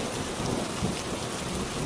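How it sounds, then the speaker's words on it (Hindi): Heavy rain pours over a village in a constant, dense hiss, with a low rumble of thunder rolling beneath it throughout. "भयंकर बारिश शुरू हो गई।"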